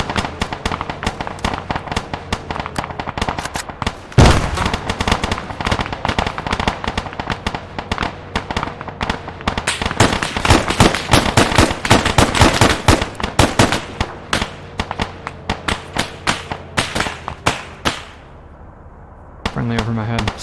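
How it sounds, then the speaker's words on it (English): A frag grenade in the Arma video game goes off as one sharp, heavy blast early on, surrounded by dense rapid gunfire cracks and bursts that continue for many seconds before a brief lull. "Frag out"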